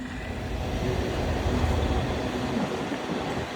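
A train rumbles steadily past near a campground by Antietam, with a low roar of wheels on rails and a faint metallic squeal. No voices are heard.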